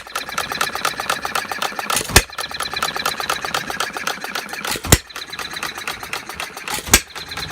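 A half-scale Breisch Olds hit-and-miss gas model engine runs with a rapid mechanical clatter, a sharp firing bang punctuating it about every two to three seconds, close and steady.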